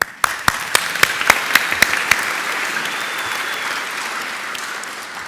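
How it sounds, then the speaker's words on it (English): Applause from a conference audience at lightning talks: a few sharp, distinct claps open, then quickly thicken into a continuous steady round of clapping that carries on to the end. "quick round of applause for Marco"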